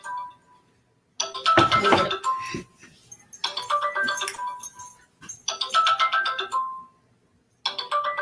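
A cell phone ringtone plays in repeated melodic bursts separated by short pauses, loud and close, with a brief spoken word.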